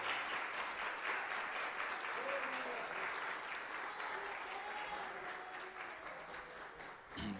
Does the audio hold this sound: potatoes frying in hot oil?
no